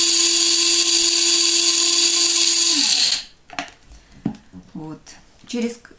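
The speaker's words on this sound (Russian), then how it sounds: "Когда процесс измельчения кофе будет закончен, вы поймете это по звуку." Bosch TSM6A013B electric coffee grinder grinding coffee beans, a loud steady high-pitched whine that winds down to stop at three seconds, followed by quiet handling clicks and knocks close by.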